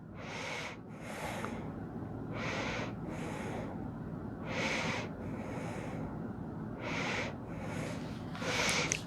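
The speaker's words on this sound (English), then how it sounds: "we'll take a few deep breaths here." Slow deep breathing during yoga done in bed, about six paired inhale and exhale cycles of airy rushing breath, close and fairly quiet, with no talk.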